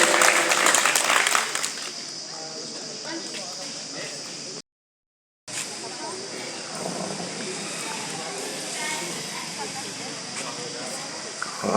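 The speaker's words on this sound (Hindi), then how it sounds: "तालियों से सभी लोग स्वागत करें।" Applause from a crowd at an outdoor village chaupal gathering in Bhilsai, steady and sustained with a brief dropout midway, mixed with background voices.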